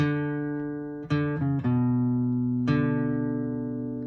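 A few plucked acoustic guitar notes ring out one after another, sustaining clearly with no voices.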